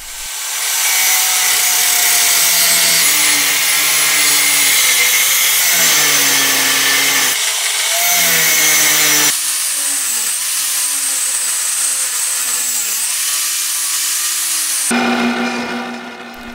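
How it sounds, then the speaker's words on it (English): A power drill bores and taps holes in steel parts for a homemade power hammer's ram guide adjustment bolts, a loud continuous whine that shifts pitch as the bit loads and eases, briefly cutting out between passes, with no talking. "Here, I'm drilling and tapping holes for the ram guide adjustment bolts."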